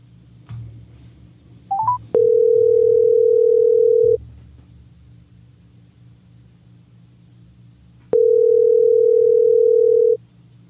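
A telephone handset gives a brief dialing beep, then a steady, loud dial tone for about two seconds, a pause with faint background hum, and a second two-second burst of tone while a call is being placed.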